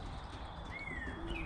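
Pigeons coo in a loft, a brief, faint call or two rising over low background noise.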